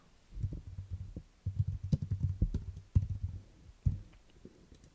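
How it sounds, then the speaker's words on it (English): Typing on a computer keyboard while building a web page, soft close clicks in uneven bursts with short pauses, quiet and alone. "And I can start typing here."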